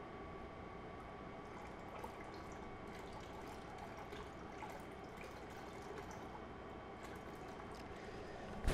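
Steady pour of 65-degree water into a sourdough bread mix with flour, a continuous liquid wash running close and even for several seconds, with a brief louder bump at the very end.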